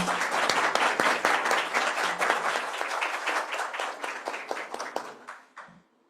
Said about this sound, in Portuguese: Uma salva de palmas para a Isadora.